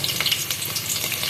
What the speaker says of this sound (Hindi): 1 प्याली कुकिंग ऑयल डाल लिया है और अब ये प्याज डाल रहे हैं